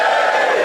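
Studio audience on a British comedy quiz panel show cheering together, a loud, sustained crowd roar filling the short moment with no talk over it.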